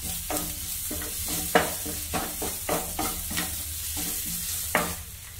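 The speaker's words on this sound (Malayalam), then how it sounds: "മസാലയ്ക്ക് ആവശ്യമായിട്ടുള്ള ഉപ്പും കൂടെ ചേർത്ത് കൊടുക്കുക. നന്നായിട്ട് വഴറ്റി കൊടുക്കാം." Spice masala with salt sautéed in a pan, rhythmic scraping strokes of a spoon repeating roughly every half second over a steady frying sizzle.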